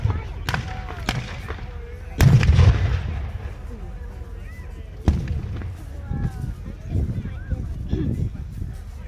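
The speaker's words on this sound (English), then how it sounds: "There's obviously a strong point ahead. Incoming fire." Artillery and rifle fire at a World War II tank show battle re-enactment in Bournemouth, several sharp distant booms and cracks over outdoor rumble, with someone narrating throughout.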